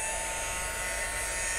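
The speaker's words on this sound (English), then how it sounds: "just hit it with your heat gun" A heat gun blasts steadily to dry fresh blue stamping ink on paper, giving one continuous, loud, even whooshing hum with no pauses and no talking.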